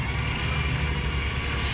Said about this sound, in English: a trash truck goes right by